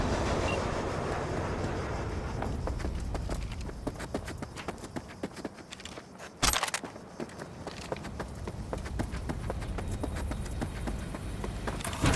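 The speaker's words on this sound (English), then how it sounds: "All right, the train's leaving." A train pulls out in the video game Cyberpunk 2077, with a steady rolling rumble and rhythmic clacking wheels on track throughout, broken by one sharp loud burst midway.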